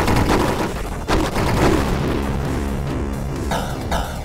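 Explosive ammo fires in Still Not Dead, a rapid run of loud, punchy gunshots and booming impacts packed closely together over a dense rumbling backdrop.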